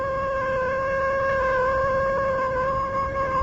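A cat gives a long, loud, drawn-out meow in a radio mystery drama, one sustained tonal cry heard close and alone.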